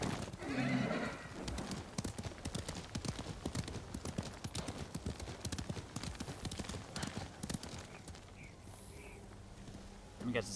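Rapid hoofbeats of a galloping horse in the video game Ghost of Tsushima clatter steadily and close by, with a horse neighing and some speech mixed in.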